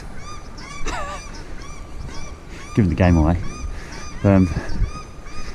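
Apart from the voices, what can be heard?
paradise shelduck calls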